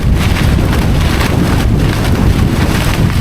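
Strong wind batters the microphone in a continuous loud, roaring rumble with uneven buffeting surges, filling the whole stretch with no voices.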